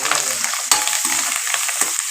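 Onion and coriander frying in a hot pan, a loud continuous hissing sizzle with quick stirring scrapes and one sharp clink partway through.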